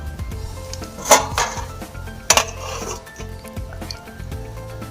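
A lid is set over a pot of semolina gulab jamun soaking in syrup, giving two sharp metallic clanks with some rubbing and scraping between them, close by and alone.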